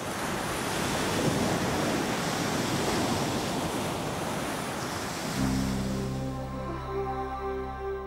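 Steady roar of surf breaking and washing ashore, broad and continuous, with a low droning hum joining in near the end.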